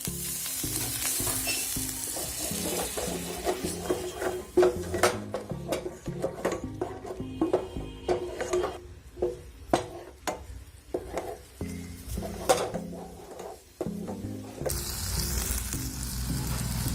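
Spices sizzle and fry in oil for a chana dal curry as they are stirred, with steady close frying hiss and repeated scraping stir strokes throughout, no talk.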